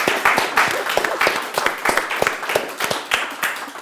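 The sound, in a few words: small audience applauding a panel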